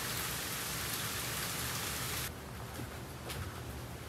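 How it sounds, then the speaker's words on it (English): Rain falling steadily, a dense hiss of drops on surfaces with no voices; the shower is heavier at first and then eases to a softer, thinner patter partway through. "It's raining, Bubba."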